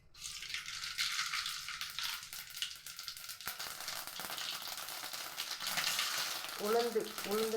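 Mustard seeds sizzle and crackle in hot oil for a South Indian upma, a steady frying hiss with scattered pops.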